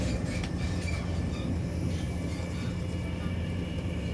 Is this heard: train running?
yes